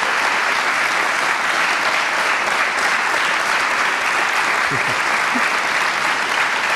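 Loud, sustained applause from an audience for two violinists on stage at an evening event, a continuous dense clatter of many hands with no pauses.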